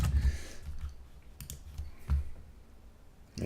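A few soft mouse clicks while saving and publishing a web page in a page builder, sparse and close with quiet gaps between them.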